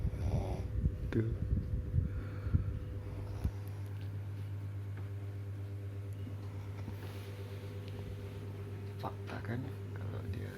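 A sleeping person snores, loud rough breaths at first that settle into a quieter steady low hum with occasional faint snorts, recorded close up.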